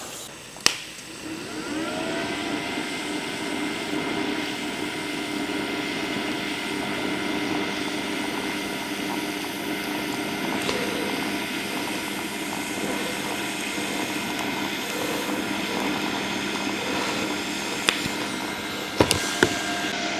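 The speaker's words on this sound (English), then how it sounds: "The arc is nice and smooth on the machine." TIG arc from an Arccaptain TIG 205 Pro welder at around 95 amps, running a bead on a stainless steel header repair: a steady, even buzzing hum that holds for the whole stretch, with a few brief clicks near the end.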